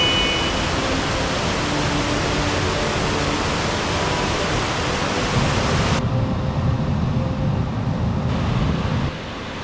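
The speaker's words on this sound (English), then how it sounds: "we have made it here to Reynolds Fall, an even larger one" Reynolds Falls waterfall at Ricketts Glen, a steady broadband roar of falling water heard close and loud, continuous throughout with no voices.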